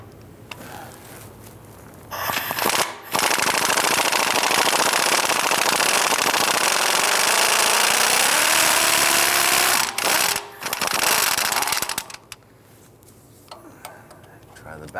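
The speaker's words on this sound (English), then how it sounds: "On the driver's side, we'll try and loosen this bolt here." A power tool works on a rusted oil pan bolt of a 1999-2004 Jeep Grand Cherokee 4.7L V8, giving a loud, sustained, rapid hammering buzz with a couple of short pauses between bursts.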